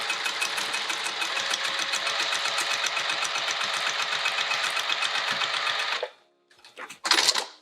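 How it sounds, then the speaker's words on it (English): A sewing machine runs steadily at close range, top stitching fabric in a fast, even mechanical chatter for about six seconds, stops briefly, then gives a short final burst. No one speaks. "So I'm going to take it to the machine and go up to a little over a 3."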